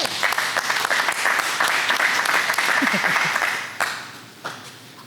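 An audience at a Ward 2 coffee-with-candidates forum applauds in a dense, continuous patter of clapping that tapers off toward the end, with a couple of louder single claps.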